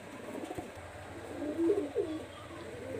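Pakistani high-flyer pigeons in a loft in Khulna give soft, low coos, with a clearer burst near the middle over a constant background hum, fairly faint, with no voices.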